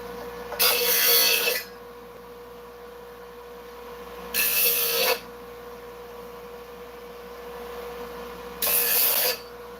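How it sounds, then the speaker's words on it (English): A belt sander sanding wood while a 73 Superglide part is smoothed, three loud bursts of gritty abrasion, each about a second long, separated by quieter gaps with a steady background hum. "this is a belt sander"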